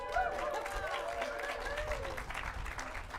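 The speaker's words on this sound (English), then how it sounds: "I like that the Book Loft gets a round of applause every night" A round of applause for the Book Loft, a local bookstore, from an evening audience at Wallowa Lake Lodge: steady, close clapping from a crowd, with voices and calls mixed in throughout.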